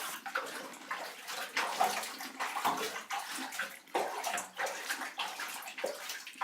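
A bathtub fills with water from the tap in a holiday home on the Roseland peninsula, Cornwall, a steady, close, splashing rush that pulses gently in strength and has no talk over it.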